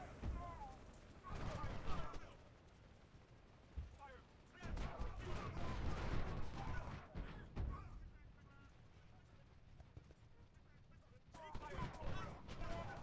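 Gunfire rolls across a Civil War battlefield in Ultimate General: Civil War, with repeated volleys and booming shots coming in uneven waves over thirteen seconds, some near and loud, others softer and more distant.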